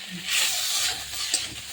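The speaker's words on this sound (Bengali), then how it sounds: "এবার আমি মাছের এই কড়াতেই আমি গাঁটি কচু দিয়ে দেবো, কেটে রাখা গাঁটি কচু দিয়ে দেবো" Cut taro tipped into a hot karahi still oily from frying fish, giving a close, bright sizzle that flares up, fades slightly, then spikes again briefly near the end, with no voices.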